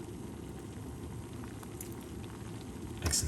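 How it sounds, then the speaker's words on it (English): Water boils in a pot with a low, steady bubbling hiss, quiet and unbroken, with a slight clatter near the end. "So that's boiling."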